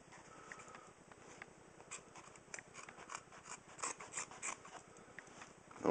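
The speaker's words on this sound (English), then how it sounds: "They're obviously heavy-duty scissors, really good shears." Heavy-duty shears chomp through a thick seam in a quick run of rhythmic crunching snips, close up, growing louder toward the end.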